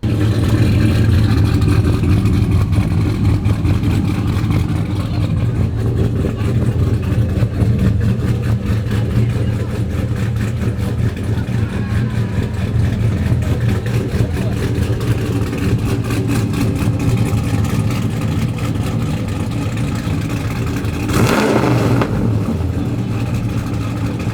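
Truck engine with a 416 stroker idling in a deep, lumpy rumble heard close and steady, with a short sharp noise near the end over the ongoing idle.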